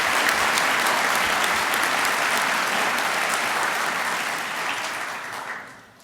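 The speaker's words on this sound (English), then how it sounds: "Let's give them a round of applause." A large commencement audience at the University of Iowa College of Law gives a sustained round of applause for the faculty and staff, dense clapping filling the hall for about five seconds before tapering off near the end.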